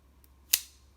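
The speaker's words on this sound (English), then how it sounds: "Cut through the tape there." A single sharp snip of a blade slicing through packing tape on a Star Wars Black Series figure box, one crisp close cut alone in a quiet room.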